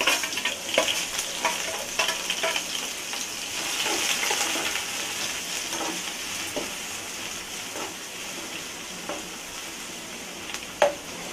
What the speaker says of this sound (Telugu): ఆయిల్ వేడైన తర్వాత ఉల్లిపాయ ముక్కలు పచ్చిమిర్చి ముక్కలు వేసుకోవాలి